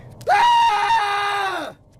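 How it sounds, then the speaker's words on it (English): A person gives a single loud, piercing scream for about a second and a half, sustained at full strength before it tails off, a horror-story effect. "I ran away, screaming like crazy."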